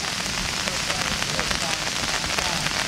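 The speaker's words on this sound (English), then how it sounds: "thunder was rumbling, and soon the rain began." Steady rain pours down in a forest where orangutans shelter, a dense, continuous hiss of drops striking leaves and surfaces, close and unbroken throughout, with faint voices in the background.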